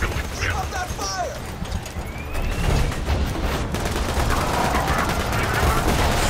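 Sustained gunfire in Borderlands 2 during a boss fight, a dense continuous barrage with booms, under in-game voices and player talk.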